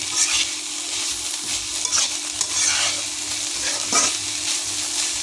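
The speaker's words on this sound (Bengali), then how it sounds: "আমি আবারও ভালো করে নেড়ে দিলাম।" Banana flower fry is stirred in a pan, a continuous close sizzle broken by repeated scraping strokes of the spatula every second or so.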